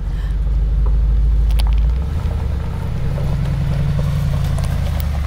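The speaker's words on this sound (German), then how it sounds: "beim Berg hochfahren nie vom Gas gehen, immer schön Drehmoment mitnutzen" Mercedes G63 AMG climbing a hill off-road, a loud, steady low engine rumble under throttle that drops and shifts tone partway through, with no talk.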